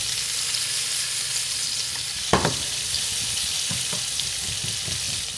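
Onions hit a hot pan with bacon fat for migas, giving a loud, steady frying hiss. A sharp crackle flares as they land, followed by a few soft stirring bumps and no voices.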